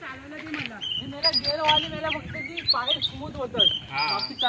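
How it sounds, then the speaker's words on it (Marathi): A bird calls at sunset in a Konkan village near Rajapur, with repeated high chirps and tweets over a steady bed of voices and outdoor background sound. "हा पक्षी आहे ना इथे हा बघा ओरडतोय त्याचा आवाज बघा जबरदस्त आहे"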